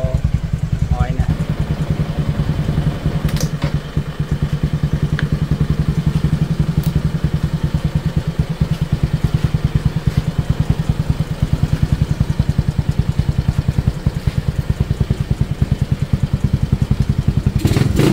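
A vehicle engine idling while it warms up, a steady low rumble with a fast regular throb running unchanged the whole time, close and loud, with a few faint clicks and knocks.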